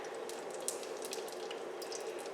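Toutons, Newfoundland fried bread dough, sizzle in a hot pan on the stove, a close, steady crackling hiss with small sharp pops and bubbling throughout.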